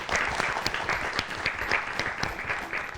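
Applause after a correct quiz answer on a children's educational show: several seconds of steady, lively clapping from a group, fairly close and uninterrupted.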